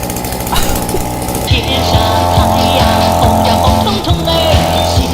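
A smoking small engine runs roughly, sputtering and popping in an uneven rhythm of chugs with a rasping higher whine over the top, close and loud throughout.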